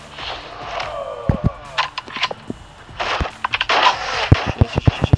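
Pistol gunshots in the mobile shooter COD Mobile: sharp, close, irregular shots in short bursts, a few early and a denser cluster near the end, over a steady game background with faint voices.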